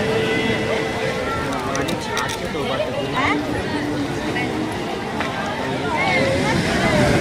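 Sea waves crash at night on Old Digha beach in a continuous, broad roar of surf and wind that stays loud throughout, with the babble of nearby crowd voices mixed into the wash.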